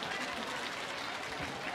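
A crowd claps for an honoured guest at a public gathering, a dense, even wash of applause held throughout, moderately distant and fairly soft.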